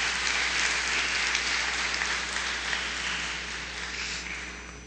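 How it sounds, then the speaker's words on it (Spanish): Sustained audience applause at a panel discussion on Amazonian peoples, a dense even wash of clapping across the whole stretch that slowly eases toward the end, with no voices over it. "pido un aplauso para la mesa que acaba de concluir."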